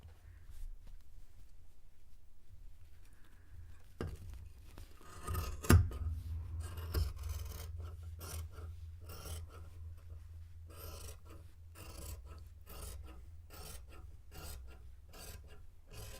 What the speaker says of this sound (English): I'm going to cut off the sleeve first so I can just get it out of my way.